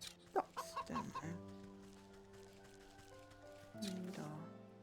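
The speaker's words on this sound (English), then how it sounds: "Ducks down there." Ducks in the video game Wytchwood give a series of short quacking calls, then a longer honking burst after a pause, all set over a steady tonal game music background.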